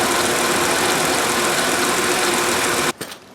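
A 2001 Mercedes E320 engine idles steadily at close range with a loud even hum, then shuts off abruptly near the end, leaving a brief fading settle.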